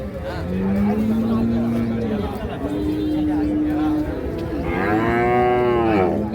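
A Holstein Friesian cow at a cattle market lets out several long, loud moos close by, rising and sustained, over a busy crowd of voices and background chatter.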